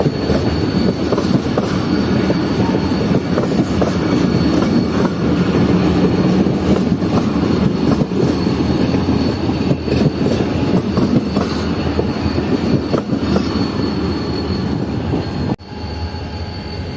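A passenger train on the Karachi line near Bin Qasim rolls steadily past, standard, business class, AC sleeper and economy coaches, with a continuous loud rumble, wheel squeal and clatter, easing slightly near the end.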